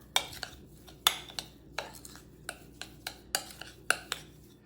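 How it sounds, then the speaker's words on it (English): A spoon stirs a cooking mixture in a pot, giving a series of close, sharp clinks and scrapes at a quick irregular pace, roughly two or three knocks per second, with no talking. "we're going to stir it for about a minute to make sure that everything gets nice and incorporated"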